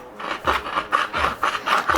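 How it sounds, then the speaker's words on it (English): Universal deburrer scraping the cut end of a copper refrigeration pipe before press-fitting: a series of short, raspy scraping strokes in an uneven rhythm, close and moderately loud, with no voices. "Then you would use a universal deburrer to remove the burr completely from inside"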